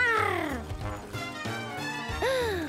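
A voice imitates a cat while pretending to be a lion, giving a few drawn-out, sliding meows over music in the background.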